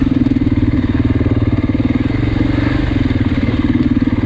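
A 2024 Beta 390 RR dirt bike engine runs steadily close by, a loud, throbbing mid-pitched rumble with rapid regular pulses and no voices.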